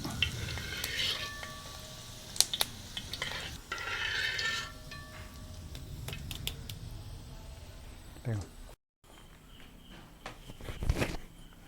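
Homemade chicken nuggets fry in hot oil until golden brown. A steady sizzle runs under intermittent clinks and scrapes of stirring and turning, and a person talks over it.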